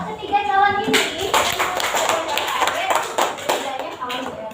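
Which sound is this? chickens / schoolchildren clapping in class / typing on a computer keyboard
schoolchildren clapping in class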